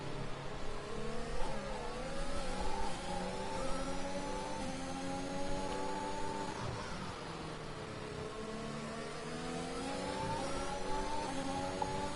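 Formula 1 race cars in the F1 2021 game at the Singapore Grand Prix, engines revving and shifting through gears in rising and falling whines, several cars close together, continuous and loud.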